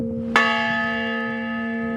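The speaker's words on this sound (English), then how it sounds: "It really hits them when that bell tolls and it goes through them." A large cast honor bell rings out for service members' funerals with one clear, loud strike that rolls into a long, steady ringing hum that slowly fades. No other sounds are present.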